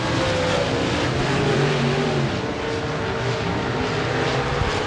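Modified race cars roar around Devils Bowl Speedway in a dense, continuous engine drone, loud and steady with no speech, one engine easing off throttle in the turns.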